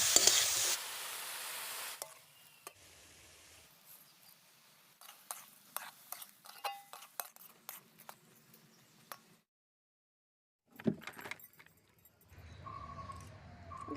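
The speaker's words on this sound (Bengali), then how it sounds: "গাজরটাকে ভালো করে ভেজে নিতে হবে" Grated carrots frying for gajar halwa in a village kitchen, with irregular stirring scrapes and clinks of a utensil against the pan over a faint sizzle, broken by quiet gaps and a loud burst at the start.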